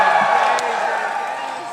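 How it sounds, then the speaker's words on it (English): A Saturday night live-show audience in Columbus cheers and whoops in a sustained, dense roar that slowly fades a little. "what a Saturday night crowd in Columbus"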